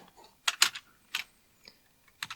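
Keys clatter on a computer keyboard while a short command is typed in a DOS terminal, giving a few sharp, close clicks in an uneven rhythm with brief pauses between them.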